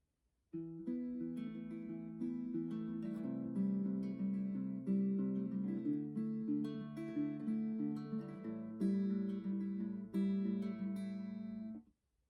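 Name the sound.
guitar chord progression with second plucking pattern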